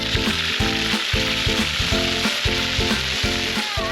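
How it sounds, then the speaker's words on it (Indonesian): Ground spice paste sizzles loudly in hot oil as it is stirred for a lobster dish, a dense continuous fry with steady rhythmic scraping strokes from the stirring. "Minyak sudah panas nih, saatnya bumbu halus ditumis."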